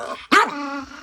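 A single dog gives one short, sharp bark that trails into a low growl, close and loud, aimed at a puppy indoors.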